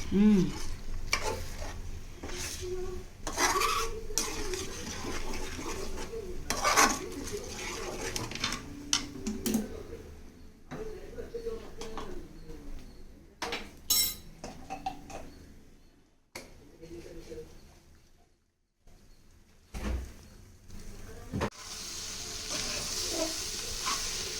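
Egg and rice frying in a pan for egg rice, a steady sizzle with repeated scraping and stirring strokes of a spatula, close and continuous, fading briefly before resuming.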